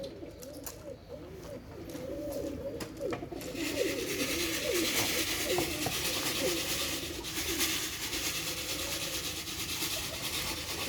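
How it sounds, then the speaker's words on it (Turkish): Pigeons in a coop in Istanbul coo steadily in low, throaty bursts, with a faint mechanical hum in the background that grows louder partway through. "arkada kuş bırakıyorsun ama Sümeyye."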